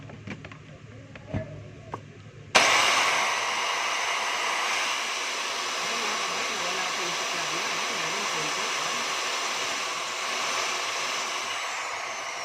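A Makita 4131 circular saw with worn carbon brushes starts up and runs steadily in a bench test, a loud continuous motor whine that holds for about ten seconds after a few light handling clicks.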